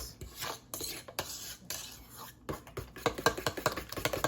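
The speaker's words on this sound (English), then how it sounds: "Tilt that bowl just like that and mix." Cake batter for a hummingbird cake is mixed by hand in a tilted bowl, giving repeated scraping and clinking strokes of a utensil against the bowl that grow quicker and more sharply rhythmic toward the end.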